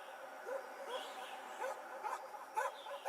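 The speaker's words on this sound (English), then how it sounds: "That dog sound." A dog in the video game NORCO gives short yips and whimpering barks, several quick calls spread across a few seconds at moderate distance over a faint background hum.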